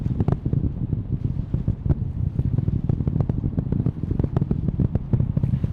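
Artemis I rocket on ascent, main engines and solid rocket boosters firing, a steady heavy roar with rumbling crackle and buffeting, continuous and loud throughout with no talk.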